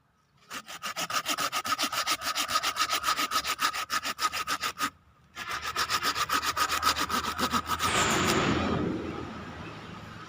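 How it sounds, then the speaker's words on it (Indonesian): Hand saw cutting through a waru (Indian hibiscus) bonsai branch, a steady rhythmic back-and-forth rasp of quick strokes, close and loud, pausing briefly midway then resuming until the branch gives way with a final rougher crunch. "kalau kita memotong pakai gergaji"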